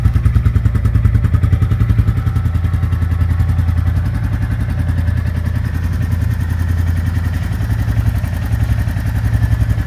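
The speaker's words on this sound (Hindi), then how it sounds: "अभी आइडल पे सुन लो इसका साउंड कि कैसा है।" A 2024 Royal Enfield Classic 350 single-cylinder motorcycle idles up close, a steady, loud low thump-thump beat with mechanical clatter, no talking.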